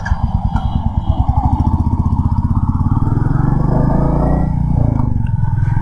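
Motorcycle riding in Lucknow, the engine putting out a loud, close, rapid thumping idle that smooths into a steady drone as it pulls away.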